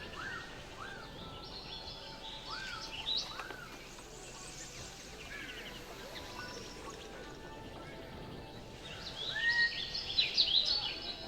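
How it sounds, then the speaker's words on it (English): Birds sing inside a restaurant in the Planet Coaster 2 game: repeated chirps and whistled phrases over a soft ambient bed, with a busier, louder burst of calls near the end. "I put the sound a little bit louder for the birds in the restaurant"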